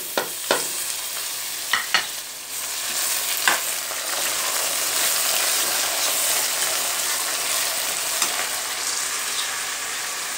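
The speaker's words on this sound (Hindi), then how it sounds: "देखिए प्याज मेरा ब्राउन हो चुका है, अब मैं इसमें टमाटर अदरक लहसुन पेस्ट ऐड करती हूँ।" Browned onions frying in a pan as tomato, ginger and garlic paste is added, giving a loud, steady sizzle with a few sharp clatters of stirring near the start and no talk.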